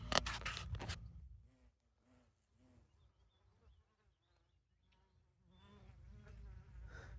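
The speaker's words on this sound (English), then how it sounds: "So those honeybees," Honeybees buzz faintly among fragrant flowers, the soft insect drone low and steady through the middle, with louder rustling and handling noise at the start and end.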